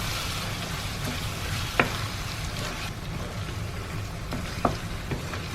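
Liver masala with garam masala and cumin powder frying over a high flame, a steady close sizzle with occasional scrapes of stirring and no voices.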